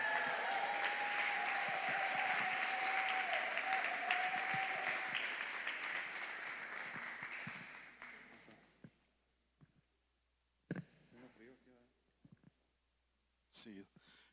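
An audience at a church gathering applauds to welcome a pastor, a dense, sustained clapping roar with cheers that swells and then fades out by the midpoint, followed by near-silence broken by a few soft clicks and brief sounds.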